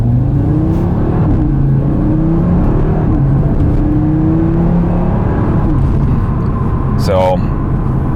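A 2020 Audi RS3 Quattro engine pulls hard and steady under a constant loud road and cabin rumble on 19-inch wheels, the pitch climbing through the gears; a brief higher whine near the end.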